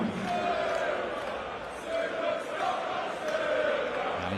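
A darts crowd at a World Championship match gets behind the underdog player with a steady wash of cheering and crowd noise, held at a moderate distance, while a commentator talks over it.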